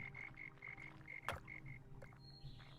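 Frogs croaking in a cozy building video game, a chorus of short repeated chirping croaks in an irregular rhythm over a soft ambient background, with a brief sharp click midway.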